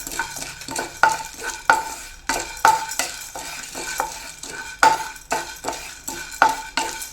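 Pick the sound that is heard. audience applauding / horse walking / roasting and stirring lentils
roasting and stirring lentils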